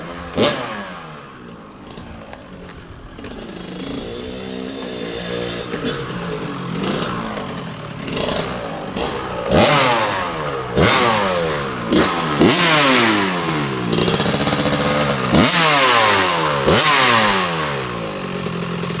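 A 1982 Yamaha YZ125 motorcycle engine revs hard and close, its pitch sweeping up and dropping back in repeated bursts with mechanical clatter, alone with no talking.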